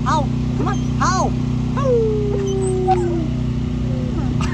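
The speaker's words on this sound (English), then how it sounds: "Can we howl? Can we howl? Howl, howl, howl. Come on, howl." A dog howls and yips in rising and falling wails, several short cries then a long drawn-out howl, over a steady engine-like drone at close range.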